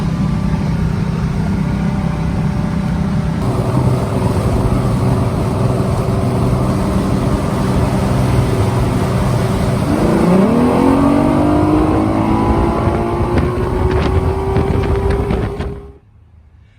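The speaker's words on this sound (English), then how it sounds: "I've got the motor running exactly the way that it should be now." A loud Evinrude 225 outboard motor drones steadily, then its pitch sweeps upward as it revs and holds high, pushing a boat, before stopping abruptly.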